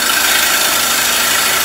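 A gouge cuts timber spinning on a wood lathe, making a steady, loud, continuous hissing whir that holds even throughout, with no talking.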